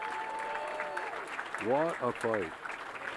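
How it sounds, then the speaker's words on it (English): Applause for two boxers at the 2024 MGG state finals, a moderate crowd clapping that continues under an announcer talking. "How a big round of applause for both of these boxers"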